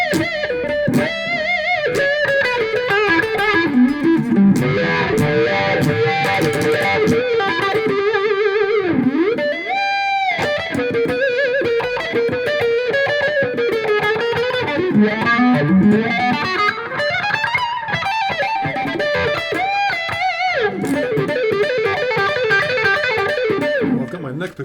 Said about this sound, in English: I probably put on another distortion pedal.